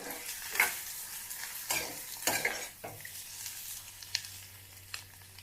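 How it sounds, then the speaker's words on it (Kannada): Egg pepper fry sizzles quietly in a pan while a utensil repeatedly scrapes and taps the pan in irregular stirring strokes, close by, with no talking. "ಫ್ರೈ ಮಾಡಿಕೊಂಡ್ರೆ ಇದು ರೆಡಿ ಆಗಿಬಿಡುತ್ತೆ"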